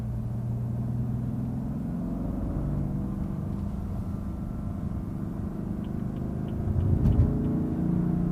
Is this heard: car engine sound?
yes